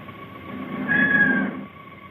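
A woman imitates a cat with a drawn-out, wavering meow that swells in the middle and fades, heard alone and fairly close over a faint room hiss.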